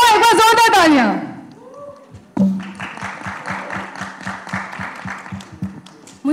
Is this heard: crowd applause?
yes